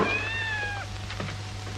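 A cat meows once in a long, drawn-out, wavering cry that fades and breaks off, followed by a few faint thuds and rustles against a low steady hum.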